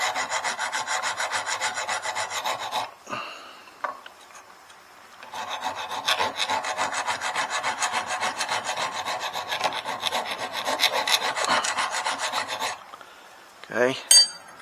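Eight-inch file dragged hard across a stainless steel BoneCracker broadhead, loud close rasping strokes in a fast steady rhythm, pausing briefly around the middle and ending with a few clinks.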